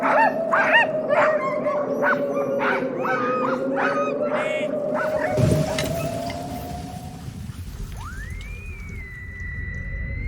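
Sled dogs of a dog sled team barking and whimpering in a tight cluster of yips, with a long howl-like tone running underneath, then a rising whine near the end, close and loud.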